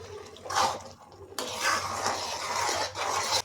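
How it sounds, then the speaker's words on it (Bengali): Kheer being stirred into carrot halwa in a pan, heard as close spoon scrapes and clinks against the metal in uneven bursts over a faint background hum, with no one talking. "এখন এই ক্ষীরটা হালুয়ার মধ্যে, এর গাজরের মধ্যে ঢেলে দেব। ভালোভাবে মিশিয়ে নিতে হবে।"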